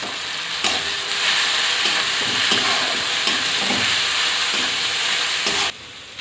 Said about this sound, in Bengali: মশলা কষানো হয়ে গিয়েছে